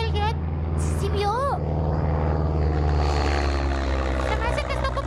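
A jet airplane passes overhead near Apodaca, a broad rising roar that swells in the background beneath loud, continuous conversation and a car interior hum.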